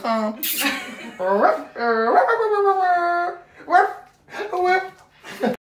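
A dog whimpers and whines up close while sniffing clothes that smell of wild boar, giving high, wavering cries in repeated bursts with short pauses between them.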